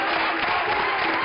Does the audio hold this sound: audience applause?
yes